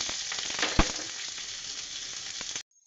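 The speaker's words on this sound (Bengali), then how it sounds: "পেঁয়াজটা সামান্য লাল লাল করে একটু ভাজা হোক" Chopped onion sizzles in hot mustard oil, a dense, loud crackle with one sharp stirring knock, then it stops abruptly just before the end.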